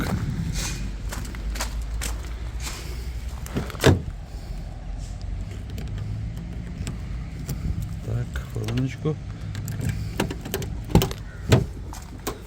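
A minibus door opens at a car market to reveal the interior, with scattered clunks and latch thuds, one sharp knock near four seconds and more toward the end, while people talk throughout and footsteps shuffle nearby.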